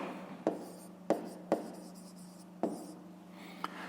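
Pen writing by hand on paper during a grade 5 maths exercise, giving a few short sharp scratchy strokes spaced unevenly over a quiet background, close and fairly soft.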